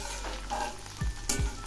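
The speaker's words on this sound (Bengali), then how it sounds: "এই কাঁচা লঙ্কাগুলো এর সঙ্গে ভেজে নেব।" Green chillies frying with garlic and onions in a pan, a close crackling sizzle broken by quick scraping stirs of a spatula against the metal.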